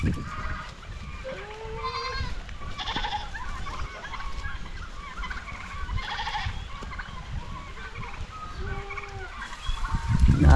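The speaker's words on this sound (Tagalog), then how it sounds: "Nag-aaliw lang po ako sa ating mga kambing habang nakatingin sa kanila na kumakain ng damo." Farm goats bleat repeatedly while grazing on grass outdoors, several calls at varied pitches spread across a busy background of other livestock and fowl sounds, fairly close.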